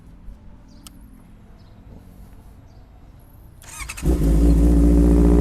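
A Honda CB650 motorcycle engine starts up and settles into a loud, steady idle close by. Low rumbling and mechanical chatter stay sustained to the end, after a quieter stretch of background hum.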